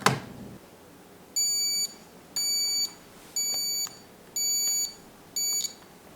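A kitchen timer beeps during pressure canning of chicken stock, giving five evenly spaced electronic bursts, each about half a second long, that ring out clearly over a quiet room.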